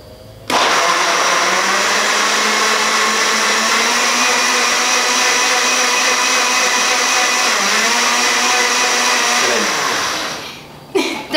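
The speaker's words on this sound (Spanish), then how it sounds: "vamos a licuar" A blender whirs loudly and steadily for about ten seconds, puréeing lemon and cucumber juice, then spins down; close and continuous with no talking.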